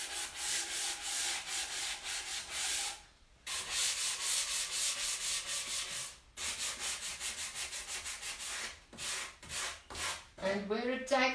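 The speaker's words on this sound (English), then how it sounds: "so now I'm sanding it back" Sandpaper rubs rapidly back and forth over painted wood in quick rhythmic strokes, broken by a few short pauses, close and fairly loud.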